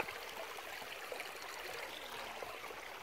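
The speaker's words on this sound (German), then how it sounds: "Komm, Paula, das ist nur Wasser." A small stream of water runs through a town centre in Goslar, giving a steady, even rushing and trickling at moderate loudness for a few seconds with no voices.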